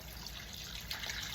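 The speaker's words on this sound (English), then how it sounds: "It's time to add 2 cups of water" Water pours into a pan of browned beef tips, a soft continuous splashing rush at low volume with a slight swell near the end.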